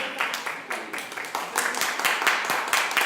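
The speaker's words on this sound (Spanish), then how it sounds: "Denle un aplauso al Señor, por favor." A church congregation breaks into applause for the Lord during a Spanish-language sermon, dense irregular clapping from many hands filling the space for a few seconds, loud and close.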